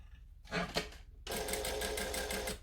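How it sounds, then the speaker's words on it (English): A sewing machine stitches a V seam on fabric, one short burst of stitching followed by a longer steady run of rapid needle strokes, close and clear with no talk. "I want to make sure that I'm sewing a V"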